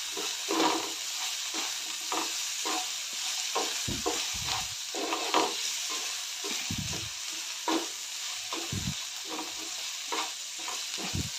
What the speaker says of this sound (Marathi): मीठ घालून चांगलं परतून घेऊया.